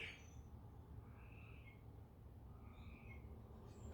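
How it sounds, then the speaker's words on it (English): An odd, owl-like bird call sounds faintly a few times at a distance, outdoors on a cold day over a steady low background rumble. "well, that was a weird sounding bird."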